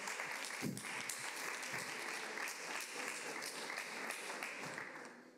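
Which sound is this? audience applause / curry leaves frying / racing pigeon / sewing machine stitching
audience applause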